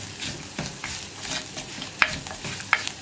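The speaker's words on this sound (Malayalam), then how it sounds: "ഇത് രണ്ടും ചേർത്ത് ഈ പൊടികളുടെ റോ ടേസ്റ്റ് മാറി വരുന്നത് വരെ ഒന്ന് ഇളക്കി കൊടുക്കുക" A spoon stirs chilli powder and turmeric powder into onions frying in a pan for a Kerala moru curry, giving soft scraping strokes over a gentle sizzle, with a couple of sharper clinks against the pan.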